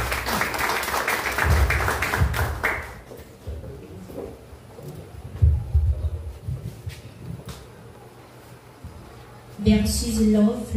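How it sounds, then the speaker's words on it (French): An audience at a French speaking and reflection contest bursts into clapping at the start, then the room settles into quieter murmurs and shuffling before a second round of applause rises near the end. "Je vous demande de l'applaudir, s'il vous plaît."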